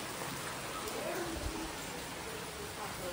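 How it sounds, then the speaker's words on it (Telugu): Steady rain falls outside in a broad, even hiss of drops that holds across the whole stretch at moderate loudness, with no voices standing out. "వర్షం పడుతుందండి బయట, చూపిస్తాను రండి."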